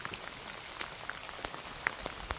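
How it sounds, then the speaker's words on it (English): Light rain at a shelter on the Appalachian Trail, with scattered soft drops pattering on a surface over a quiet background, a few sharper drips standing out irregularly. "it started raining 2 hours after we got here"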